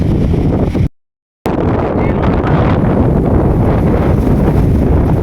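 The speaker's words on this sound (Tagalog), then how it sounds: "Grabe laki ng hangin." Strong wind buffets the microphone in a constant roar at an outdoor fishing pond, briefly cutting to silence near the start before the rushing gusts resume.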